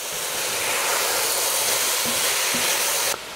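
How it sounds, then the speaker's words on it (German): Carrots, celery and onions sautéing in a pan for a lamb and bean stew give a loud, steady sizzle and hiss that runs unbroken, with faint stirring knocks, then drops sharply near the end. "Und die werde ich jetzt auch noch richtig schön anbraten."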